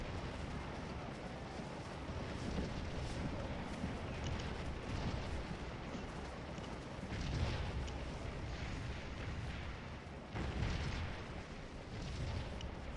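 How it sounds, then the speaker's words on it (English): Artillery fire in the Civil War battle game Scourge of War: Gettysburg makes a steady, dense rumble of distant cannon booms with a few stronger swells, continuous throughout. "look at all this friendly artillery that's come up on this side"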